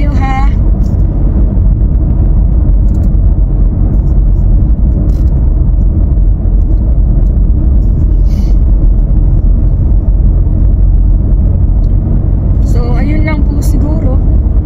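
Steady car engine drone and road rumble fill the cabin while driving, continuous and fairly loud, with someone talking over it near the end.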